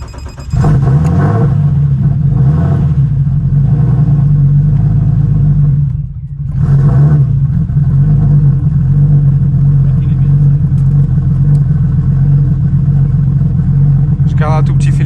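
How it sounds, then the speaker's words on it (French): A motor fires up on a test start after a fuel-leak check and settles into a loud, close, steady idle. The running briefly sags and dips about midway, then recovers and holds. "On va pouvoir faire un test démarrage, vérifier qu'il n'y ait aucune fuite de carburant."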